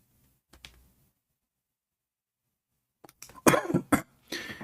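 A man coughs in a few sharp, close bursts after a long silence, with a faint earlier throat sound at the start; the coughs are loud and clustered near the end.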